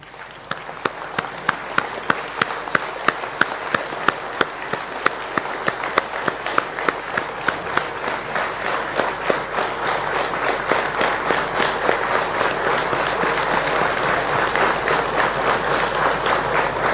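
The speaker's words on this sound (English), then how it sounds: "stand up and give standing ovation to His Lordship Ji B.R. Gawai ji" Standing ovation for Justice B.R. Gavai at a constitution conference hall, a crowd clapping loudly and continuously with sharp, regular claps in front, building into denser applause over many seconds.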